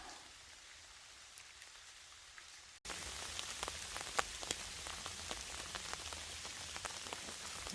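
Rain at Fisherman's Camp in San Mateo Canyon, an afternoon thunder shower patters on a campsite tarp, starting faint and jumping suddenly to a dense, close, steady drumming of drops.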